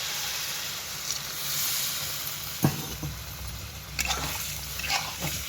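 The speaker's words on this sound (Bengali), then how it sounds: "আলু আর চিংড়ি মাছের তরকারিটা ফুটছে" A pan of potato and shrimp curry bubbles and sizzles steadily on the stove, with a few soft clicks and pops rising over the continuous simmer.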